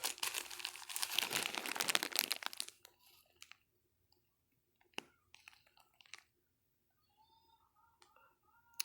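Crinkly plastic packages being handled, a burst of loud crackling and rustling for about two and a half seconds, then quieter scattered crinkles and taps with faint background sound.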